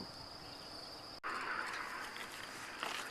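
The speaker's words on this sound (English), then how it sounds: "Cricket." A cricket in a temperate deciduous forest chirps in a steady, continuous high trill, with a brief dropout partway through and then a fuller outdoor background of insect sound.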